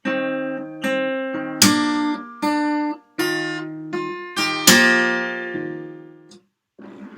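Acoustic guitar played fingerstyle in slow motion: melody notes alternate with bass notes and a percussive slap on the strings, each stroke ringing out and decaying clearly, with no talk.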